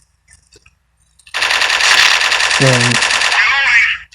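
Rapid automatic M4 rifle fire in the online shooter Strike Team Online, a loud sustained burst of about three seconds after a quiet start, with a brief voice cutting in partway through.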